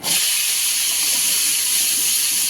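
Flowers drop into hot oil in a home kitchen and sizzle, a loud, steady, bright hiss that holds evenly from start to finish with no pauses.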